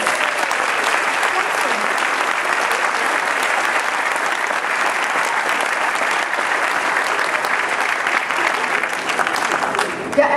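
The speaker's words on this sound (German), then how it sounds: "Nochmal einen riesen Applaus." Big, sustained applause from a large crowd at a company anniversary celebration, a dense, loud and even roar of clapping that holds for about ten seconds without letting up.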